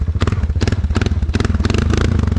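A Honda Rubicon ATV engine revs hard under throttle up close, loud pulsing bursts of rough exhaust chatter coming in quick rhythmic surges.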